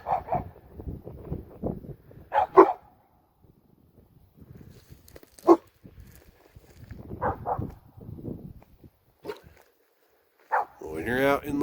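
Dogs bark out in the central Nevada wilderness on a gold claim: several sharp, separate barks spaced a few seconds apart, fairly close, with quiet rustling in the gaps.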